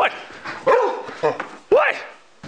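A dog barks indoors, three sharp, close barks spaced about a second apart, loud and alone with whiny yips between them.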